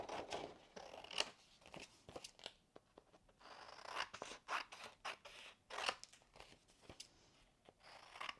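Scissors snip repeatedly through paper and vellum for a green rainbow-themed scrapbook layout, a quick irregular series of close, crisp cuts with light paper rustling and no voices.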